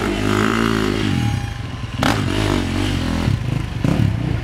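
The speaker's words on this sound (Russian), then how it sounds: "шум двигателя его железного коня." A motorcycle engine roars at a stunt show during a Builder's Day event, revving loudly and unevenly, with clattering and scraping noises cutting in over the steady drone.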